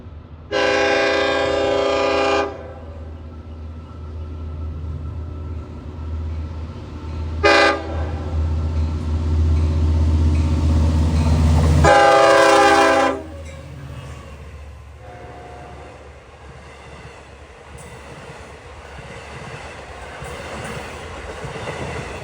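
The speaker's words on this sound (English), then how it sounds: "He's got a 10-car train with DM30 AC 500" An eastbound Montauk Branch train of 10 cars hauled by DM30AC locomotive 500 sounds its horn in three blasts, the middle one short, over a loud rumbling pass that fades into lingering rail noise.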